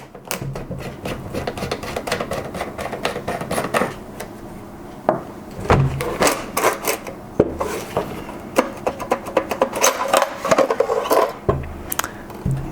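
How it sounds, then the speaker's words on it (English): Metallic clicks, scrapes and rubbing as a Beretta 1301 Competition semi-automatic shotgun is disassembled, its bolt pulled back and the magazine cap unscrewed by hand, close up with no talking. "I'm just going to pull the bolt to the rear and start undoing our magazine cap."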